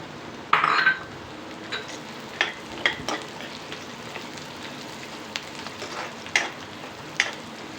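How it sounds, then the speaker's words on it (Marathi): Roasted chana dal and peanuts fry in oil, giving a constant crackling sizzle dotted with spatula scrapes and metallic clinks against the pan, close and moderately loud, with no one speaking. "हे आपण जे डाळ घेतले आहेत ना, डाळवे, हे आपण टाकणार आहे. त्याचबरोबर शेंगदाणे पण"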